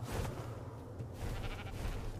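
A sheep in the video game ARK gives a few short, fairly quiet bleats over a busy game background.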